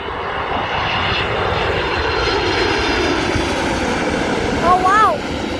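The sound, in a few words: United Airlines airplane flying overhead at Dulles Airport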